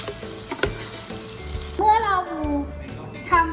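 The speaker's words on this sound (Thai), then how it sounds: "แล้วเราก็คน ให้เข้ากันจากนั้นเราก็ปิดไฟได้เลย" Green curry sauce with torn basil leaves is stirred in a hot pan, giving a soft steady sizzle with scraping stirs; a brief voice comes in partway through.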